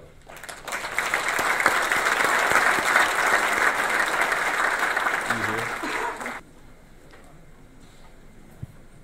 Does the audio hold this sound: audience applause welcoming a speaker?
yes